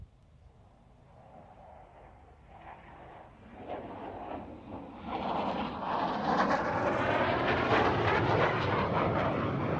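Saab Viggen AJS-37 jet engine, a distant rumble that swells into a loud roaring howl with a rising, pulsing whine as the aircraft draws nearer, with no voices.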